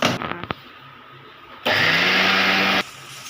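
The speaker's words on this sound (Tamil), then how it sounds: "இப்போ நம்ம மிக்சியில் வச்சு ஆட்டிட போகணும்." An electric mixer grinder whirs loudly on soaked urad dal with a little water. After a few clicks, it runs in one steady, close, high-pitched burst of about a second before cutting off.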